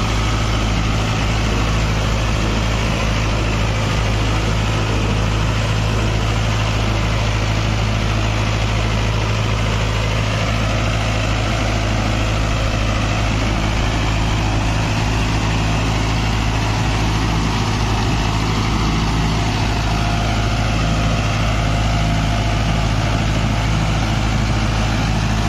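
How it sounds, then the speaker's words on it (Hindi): A 65 HP Mahindra Novo 655 tractor runs at about 1600 RPM in second gear pulling a 9-foot rotavator, its heavy diesel engine droning loud and steady with a constant low throb throughout. "सिर्फ ट्रैक्टर के इंजन की आवाज आ रही है"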